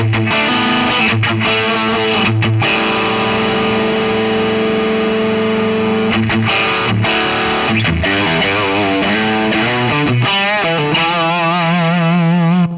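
Electric guitar with P90 pickups through a boost pedal, giving a boosted, gritty, slightly fuzzy overdrive tone, plays strummed chords and short riffs, then a busier melodic run, loud and close throughout.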